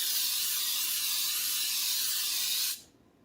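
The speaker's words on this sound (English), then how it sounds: "But do a good job spraying them." Baker's Joy flour baking spray hisses steadily from an aerosol can into cake pans over a sink, one continuous close burst that cuts off sharply near the end.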